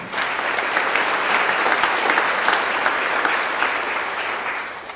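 Sustained audience applause at an office monthly celebration honoring an employee, a dense steady clatter of many hands that stays loud and even for the full stretch before tapering slightly at the end.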